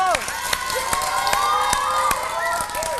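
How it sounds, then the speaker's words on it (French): A studio audience of children at a French-language kids' game show claps and cheers for both competing teams, a dense, lively wash of applause with sharp individual claps and high shouts rising and falling throughout. "On applaudit nos deux équipes,"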